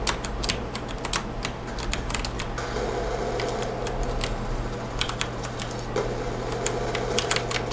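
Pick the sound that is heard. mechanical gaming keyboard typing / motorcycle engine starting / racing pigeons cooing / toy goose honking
mechanical gaming keyboard typing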